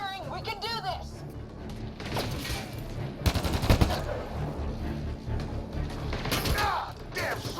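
Rapid bursts of gunfire in a Mass Effect: Andromeda battle, dense sustained volleys with a sharper loud cluster midway, over a constant backdrop of combat noise and voices.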